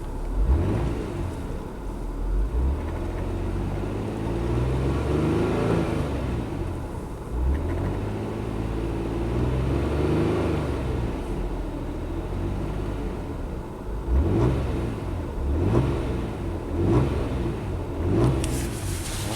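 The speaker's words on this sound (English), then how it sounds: "I want to see what happens if you put it in park and just rev it up" A 1997 Nissan Maxima engine being revved while parked, with repeated rising and falling revs over a steady idling rumble, heard close and loud with no talking.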